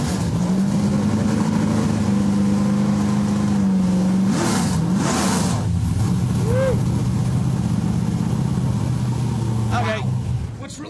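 A fuel-injected 600-horsepower race car engine running on pump gas holds a loud steady idle, then blips through several sharp revs and settles back to a rumbling idle before cutting off at the end.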